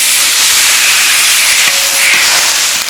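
Water poured into a hot, oiled iron wok of frying pork ribs bursts into loud, close sizzling and hissing steam that stays steady and intense throughout, with no talk.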